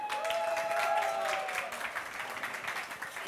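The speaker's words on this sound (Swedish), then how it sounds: "Ska vi kolla om Anders har några i publiken som hejar på honom?" Audience applause and cheering for chef Anders during a Swedish cooking competition semifinal in Växjö, a dense steady patter of clapping with some voices in the crowd.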